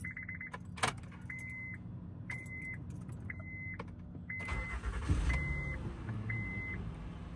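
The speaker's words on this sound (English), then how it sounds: "I'm gonna cold start it and see if it stutters and all that" A Honda Pilot is cold-started from inside the cabin, with keys jangling, a repeating chime of door beeps, and the engine cranking and catching into a low idle partway through.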